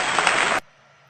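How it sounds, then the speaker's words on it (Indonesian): A class of Indonesian high school students applauds together for a presenting group in a language lesson, a loud burst of clapping that cuts off sharply after about half a second, leaving near silence. "Boleh tepuk tangan semuanya?"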